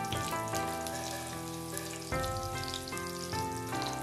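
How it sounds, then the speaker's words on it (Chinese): Ginger slices fry in hot oil in a clay pot, a close hiss and crackle under prominent tonal background music that runs throughout. "油热后放入姜片爆香"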